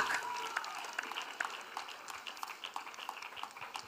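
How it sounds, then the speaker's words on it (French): Applause from a church congregation at an evangelical gathering: a dense, steady wash of many hands clapping that persists throughout, fairly loud with slight swells and scattered sharper claps. "Clap loudly."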